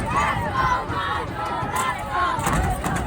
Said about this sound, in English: The roar when they came over to the stands after the game was just as good as when they entered